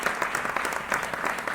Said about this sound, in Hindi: मैं आप लोगों की जोरदार तालियों के बीच आपको आमंत्रित करना चाहता हूं।